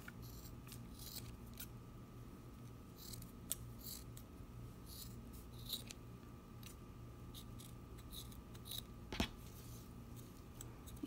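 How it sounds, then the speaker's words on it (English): Sharp scissors snip through a t-shirt in a quiet setting, giving a series of close, crisp cuts at an uneven pace with short pauses between them. "If you have a pair of sharp scissors,"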